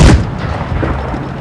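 A single heavy tank cannon shot booms in a tank video game, loud and close, then fades into a rumbling tail of engine and ambient noise.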